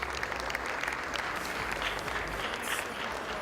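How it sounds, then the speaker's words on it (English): An audience at an annual gala gives a big round of applause, steady dense clapping filling the room at an even level throughout. "Big round of applause."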